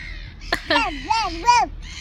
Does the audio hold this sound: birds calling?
yes